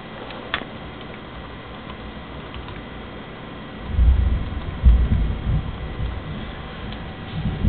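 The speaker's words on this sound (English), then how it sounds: "You guys just hear that thunder?" Thunder rolls in as a low, distant rumble about halfway through, swelling into a deep, uneven growl that lingers under faint ticking background noise.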